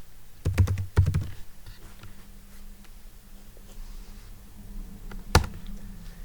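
A few keystrokes on a computer keyboard, a quick cluster of clicks early on then a single sharp tap near the end, over a quiet room hum while an SSH login is entered on an Ubuntu server.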